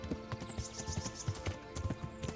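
A horse gallops in Kingdom Come: Deliverance, its hooves drumming in a quick, rhythmic clip-clop close by, with faint ambient game sounds and a brief high whistle above.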